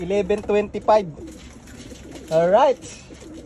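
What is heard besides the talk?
racing pigeons arriving at the loft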